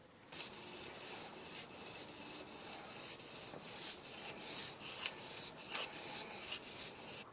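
Fine-grit sandpaper rubbed back and forth over an engine crankshaft from a Datsun 520, a soft rhythmic scratching in repeated strokes, quiet and close with no talk.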